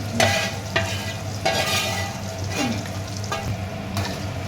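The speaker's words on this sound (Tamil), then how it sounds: "இதில் வந்து நம்ம பொரிச்சு வச்சுருக்க சிக்கன் போட்டுக்கலாம்." Fried chicken is tossed into oil with sautéed garlic for chicken pickle, crackling and sizzling steadily up close with periodic scraping stirs.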